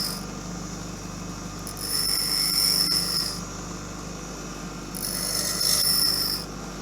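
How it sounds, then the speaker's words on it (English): Two bursts of high-pitched grinding as a twist drill bit is pressed against a spinning grinding wheel, with a steady motor hum throughout. "now I'm going to show you my technique for sharpening a slightly wider bore twist drill"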